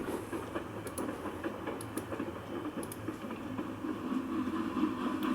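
Continuous rumbling train station ambience with a low mechanical hum, faint rhythmic clatter and occasional high ticks, steady throughout.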